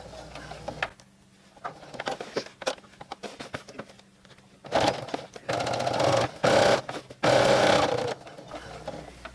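A sewing machine stitches an apron in loud bursts of rapid mechanical chatter, stopping and restarting between runs, with handling clicks in the pauses.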